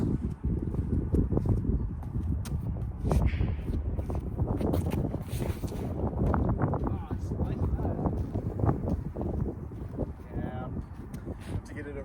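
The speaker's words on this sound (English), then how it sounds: "you can probably hear that wind picking up now" Wind gusts across an outdoor disc golf course, a constant buffeting rumble against the microphone, with a person talking over it.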